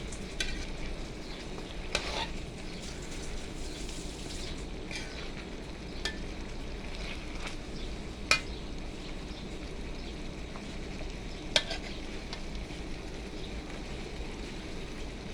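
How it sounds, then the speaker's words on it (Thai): Chicken offal and banana peppers stir-fry in a pan with a continuous close sizzle, broken by periodic sharp scrapes and clinks of the utensil against the pan, and no talking. "มากิน ผัดเครื่องในใส่พริกหยวก ดอกพร้อมครับ"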